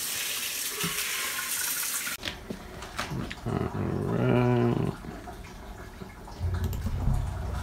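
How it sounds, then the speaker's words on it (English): Warm tap water running into a freshly cleaned betta fish bowl, a steady close splashing stream that starts and stops in bursts, with a brief low dog-like growl sound midway. "when the bowl is clean, I need to remember to fill it with warm water around room temperature"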